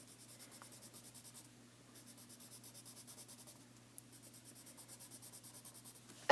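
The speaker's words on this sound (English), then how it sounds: "I'm going to color in 5 boxes to represent the 5 pencils she just lost." Soft, rhythmic rubbing strokes of a colored pencil coloring in boxes on paper, quiet and close, repeating steadily with a brief pause in the middle.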